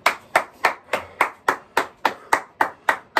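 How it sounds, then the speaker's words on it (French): A fitness instructor claps hands at the end of a full-body workout session, about eleven sharp, evenly spaced claps in a steady rhythm, close and alone. "Je vous applaudis."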